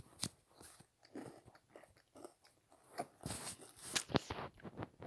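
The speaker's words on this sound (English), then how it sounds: "So right now, I am eating." Close, crunchy biting and chewing of food with irregular bursts of crisp crunches and softer mouth sounds, no talking.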